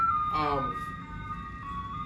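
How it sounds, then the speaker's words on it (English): An ice cream truck parked outside plays its tinkling chime melody, a steady faint tune carrying on in the distance with a brief burst of speech over it. "We're outside, ice cream truck."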